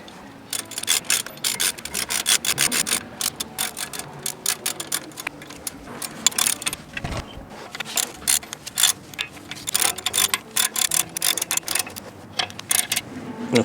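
Close ratcheting and wrench clicks tighten the caliper adapter bolts on the front brakes of a Jeep Wrangler JL, a busy run of rapid metallic clicks and rubbing throughout with no speech.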